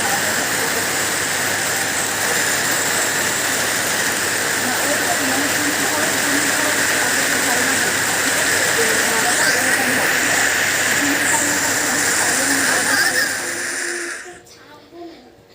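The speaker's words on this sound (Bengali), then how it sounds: "আর এখানে আজকে প্রচুর প্রচুর বৃষ্টি হচ্ছে" Heavy rain pours in a village, a dense, steady hiss that holds unbroken for about fourteen seconds before cutting off abruptly near the end.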